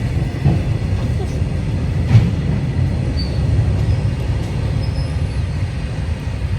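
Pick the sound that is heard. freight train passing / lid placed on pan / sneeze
freight train passing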